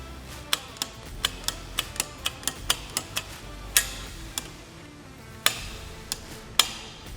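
An aluminum door on a Polaris RZR PRO R side-by-side is latched. A rapid series of sharp metallic clicks is followed by a few heavier, spaced clacks, all close and fairly quiet.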